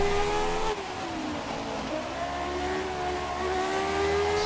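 An F1 race car engine in an F1 racing video game accelerates hard, its steady high whine climbing in pitch, loud and close, with no talk over it.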